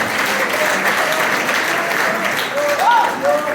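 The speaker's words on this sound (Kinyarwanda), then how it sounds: "Twongera duhuze ibiganza dukomere Imana yacu amashyi." A church congregation applauds together in a sustained, dense clapping that holds steady throughout, loud and close, with a few voices calling out over it near the end.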